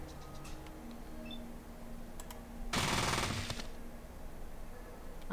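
A short burst of submachine-gun fire in Fallout 1, a dense rapid rattle lasting under a second, loud against a quiet background with scattered faint clicks before and after.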